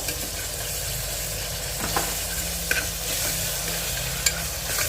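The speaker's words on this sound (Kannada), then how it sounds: "ಆನಿಯನ್ ಫ್ರೈ ಆಗ್ತಿದ್ದಂಗೆ ಒಂದು ಸ್ಪೂನು ಶುಂಠಿ ಬೆಳ್ಳುಳ್ಳಿ ಪೇಸ್ಟ್ ಹಾಕಬೇಕು. ಅದನ್ನು ಚೆನ್ನಾಗಿ ಫ್ರೈ ಮಾಡ್ಕೋಬೇಕು." Ginger garlic paste frying with onions in a pan for tomato rice, a dense continuous sizzle with a few faint spoon scrapes, close and steady throughout.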